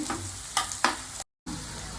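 Onions and fenugreek frying in a pan for a chicken leg curry give a steady sizzle with two quick spatula scrapes, then a short cut to silence before the sizzle resumes.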